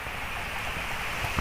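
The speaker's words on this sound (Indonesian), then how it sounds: "ini posisi gerimis guys" Light drizzle falls at an outdoor concrete reservoir, a steady soft hiss of fine rain with faint patter, continuous and even, with no voices.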